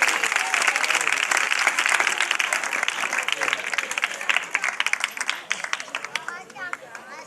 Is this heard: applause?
yes